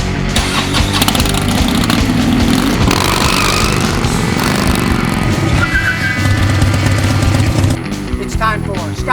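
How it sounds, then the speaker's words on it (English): A car engine revs loudly and continuously for about nine seconds, with a rough, throaty drone that swells and eases and no speech. "Rev up your engine."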